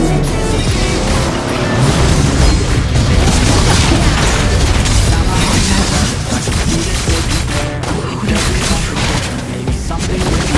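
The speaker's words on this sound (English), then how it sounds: "Your team destroyed the turret." Loud, dense battle noise in Mobile Legends as a turret is destroyed, with booming explosions, rapid crackling impacts and continuous clashing effects over game music, no talk.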